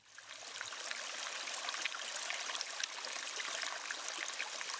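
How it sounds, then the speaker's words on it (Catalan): A forest river flows steadily, a continuous broadband rush of water that stays even and fairly close throughout, with no voices. "El riu."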